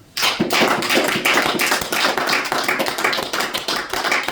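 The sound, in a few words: congregation clapping to acclaim the Lord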